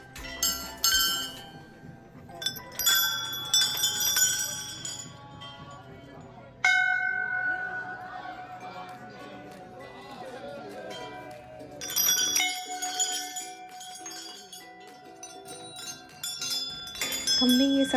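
Temple bells at Dhari Devi temple, built in the middle of a lake and hung with many bells, ring out in clear metallic strikes and long-sustaining tones, overlapping irregularly with soft background chatter.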